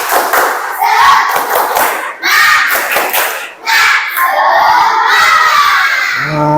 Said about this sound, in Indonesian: sekarang coba tepuk semangat